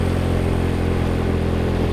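Steady, loud engine rumble with constant low vibration from a vehicle driving a rural road between Waebela and Bajawa via Jerebuu in Flores, continuous throughout with no speech.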